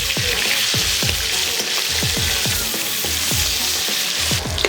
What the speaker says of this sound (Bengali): মাছগুলো একটা সাইড ভাজা কমপ্লিট। এবারে উল্টে নেব।